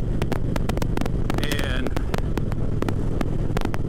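Loud, constant wind roar buffets the microphone while riding a motorcycle at speed in a Simpson Speed Bandit helmet, with sharp rhythmic clicks or ticks cutting through and a brief spoken word.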